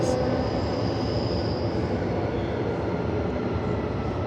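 A Perth to Joondalup passenger train rumbles steadily along the tracks, a continuous loud roar of wheels and motor with a faint high whine early on.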